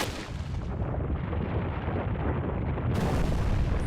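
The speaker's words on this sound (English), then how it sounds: "You want to shoot down that hive" Repeated gunfire in Resident Evil 4 as a hive is shot down, heavy booming bursts filling the whole stretch at a steady, loud level with no pauses and no voices.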